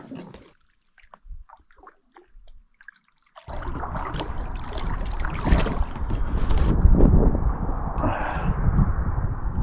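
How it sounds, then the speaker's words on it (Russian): Boat moving through water during a duck hunt, steady close splashing and hull wash starting after a few seconds of quiet scattered sounds, growing louder and continuous. "Хорошо, сейчас придем с лодкой и заберем."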